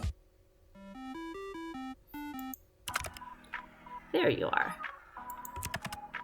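Keyboard typing sounds in the dating game A Date with Death: Beyond the Bet, with a short melodic chime sequence followed by a few irregular key clicks, and a voice speaking briefly over them.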